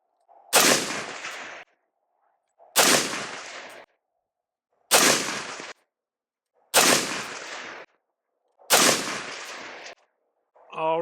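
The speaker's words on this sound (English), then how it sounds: "we're gonna do 5 shots with just the bare muzzle here" Five loud, evenly spaced rifle shots from an unsuppressed bare muzzle at an outdoor test, each a sharp crack with a short decaying tail followed by silence.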